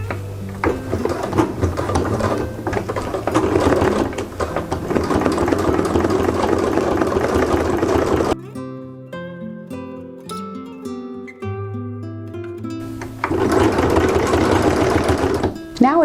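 A sewing machine stitches with a lengthened stitch, back tacking at the start and end: two loud bursts of fast mechanical whirring separated by a quieter stretch in the middle.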